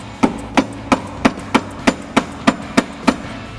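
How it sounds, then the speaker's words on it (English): Ten evenly spaced hammer blows ring out sharply and close up, each a metallic tap driving a 2009 Mustang GT lower control arm into place, steady in rhythm with nothing else heard. "you're gonna need a hammer"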